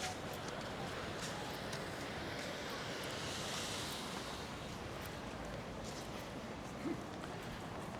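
Waves at Cala Major beach in Mallorca wash in a soft, continuous surf, faint and distant, with wind noise and a low hum of background traffic.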